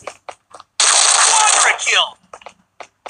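Sustained burst of automatic gunfire in a Netmarble online shooter video game, loud and dense for over a second, with short game sound effects and brief clicks before and after it.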